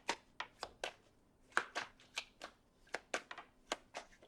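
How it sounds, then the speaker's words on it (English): Tarot cards are shuffled by hand in a quiet room, a close series of crisp snapping riffles and soft slaps in an uneven rhythm, about a dozen distinct bursts. "Two more shuffles, guys."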